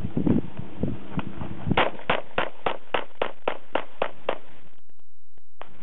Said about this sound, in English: Alright, 3 full rounds, Glock 19, probably my other favorite handgun, so here we go.